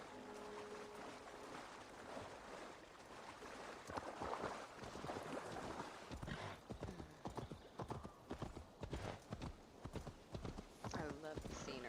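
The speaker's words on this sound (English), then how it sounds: "Never not happy that my horse can swim." Hooves clip-clop in a steady rhythm, with splashing water from a swimming horse and faint background ambience, in a PS5 video game; the beats grow sharper and more regular toward the end.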